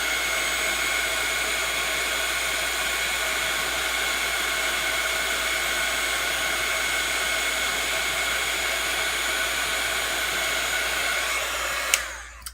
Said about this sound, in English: now we'll get our heat gun or our heat tool, and we'll just emboss this